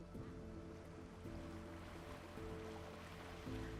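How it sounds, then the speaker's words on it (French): Ocean waves wash up and recede on a shoreline in a steady, continuous surge, with periodic swells rising every second or so under a constant hiss of moving water. "Entendre le son des vagues et les silences entre chacune d'entre elles."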